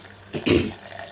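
A full glass of water poured into a cooking pot while making panakam makes a brief splashing gush, loud and close, rising quickly and then fading within about a second.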